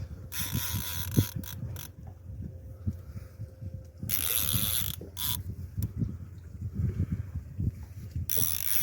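Ratcheting clicks from a fishing reel's drag as a large amberjack pulls line while fishing, running in repeated bursts with bright buzzing surges, close and fairly loud.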